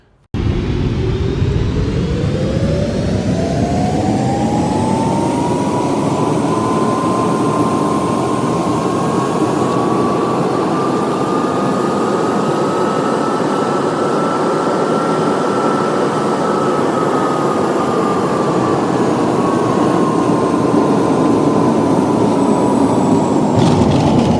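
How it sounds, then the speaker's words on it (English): Cabin noise of a Singapore Airlines jet on approach into Changi Airport, sped up, giving a continuous loud roar with a slowly rising and falling engine tone, steady throughout with no talk. "We shot over Singapore and began our approach into Changi Airport."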